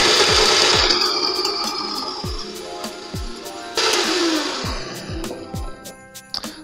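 Electric kitchen chopper cutting onions, a motor whirring in two runs with a rhythmic rattling thump about twice a second, close and fairly loud, fading at the end; a voice talks faintly in the background.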